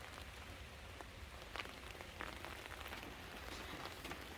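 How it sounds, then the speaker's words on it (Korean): Rain patters softly and steadily on potted flowers and garden plants, a quiet dense hiss with scattered nearby drops and no voices. "비가 와서요"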